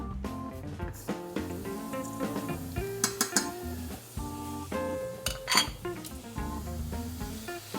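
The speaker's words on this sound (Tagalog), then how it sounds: "Ilagay na natin yung giniling." Ground pork or beef tipped into a hot pan for Filipino palabok sauce, with a loud sizzle, clinking of a metal spoon against the pan and busy stirring and scraping throughout, without talk.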